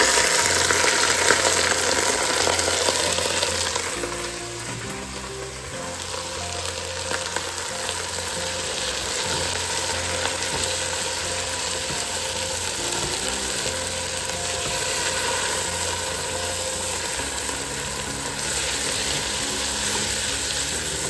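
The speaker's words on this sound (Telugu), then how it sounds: "ఆనియన్స్ని ఒక 10 to 15 minutes ఫ్రై చేసుకుంటే ఆనియన్స్ బ్రౌన్ అయిపోతాయి" Onions fry in a covered pan for a homemade chicken pulao, giving a steady, dense crackling sizzle that runs continuously, dipping slightly midway then holding even, with no talking.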